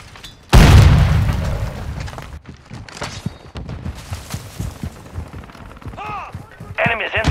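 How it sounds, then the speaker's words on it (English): Semtex grenade blast in Call of Duty: Modern Warfare II, a sudden loud, close boom with a long rumbling tail, followed by gunfire pops and game voice callouts. "Semtex incoming!"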